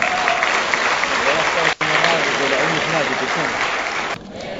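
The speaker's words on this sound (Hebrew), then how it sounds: "מגיע לו מחיאות כפיים." Applause from a lecture audience in Eilat for the man who organizes the talks, a steady dense clapping that fills the room with one brief break near the middle and fades slightly at the end.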